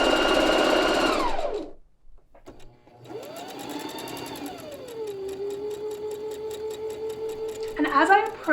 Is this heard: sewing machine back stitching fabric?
yes